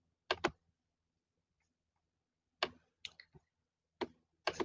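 Sharp computer mouse clicks come in small clusters, two at the start, a few more in the middle and a pair at the end, close and clear against near silence while a screenshot is snipped.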